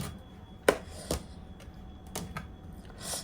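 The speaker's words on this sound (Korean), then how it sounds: "가지랑 호박은 씻어서 자를 거예요." A knife cuts washed eggplant and zucchini on a board in a home kitchen, giving a few sharp, separate chops near the mic over a quiet background with light clicks.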